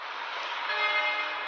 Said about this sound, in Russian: гудок здесь тоже есть